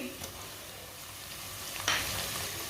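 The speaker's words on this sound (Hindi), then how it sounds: "लहसुन को भी 1-2 मिनट के लिए मैंने पका लिया" Garlic fries in a pan for a potato and turnip curry, giving a steady close hiss of sizzling oil that flares into a brighter, louder crackle near the end.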